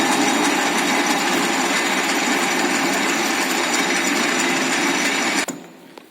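A metal lathe turns and faces a workpiece, shedding metallic chips. The loud, even machining whir runs steadily, then cuts off abruptly near the end.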